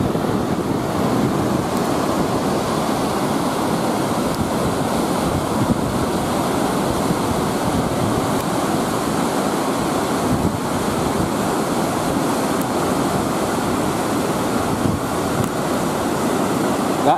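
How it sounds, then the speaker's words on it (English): A muddy river in spate after storms produces a constant heavy rushing roar, loud and unbroken, mixed with buffeting wind noise and no voices. "That is a river in spate."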